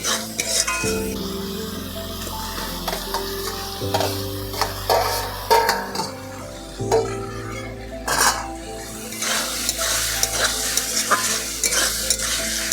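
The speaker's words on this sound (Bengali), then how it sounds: "মশলাটা সুন্দর হয়ে গেছে এখন আমি যে আলু আর ঝিঙ্গাটা ভেজে রেখেছিলাম সেটা এখন দিয়ে দিচ্ছি" A spatula scrapes and stirs fried potato and ridge gourd into a sizzling spice mix in a metal pan. The repeated scraping strokes and sharp utensil clinks sound close over a steady frying hiss, with no talk.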